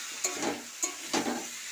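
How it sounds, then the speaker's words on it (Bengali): Salt, chili powder and other spices being mixed together in a pan for a drumstick (sajne danta) dish, a soft sizzle under three quick scraping strokes of a spoon. "এই সব মশলা একসাথে মিশিয়ে দেব।"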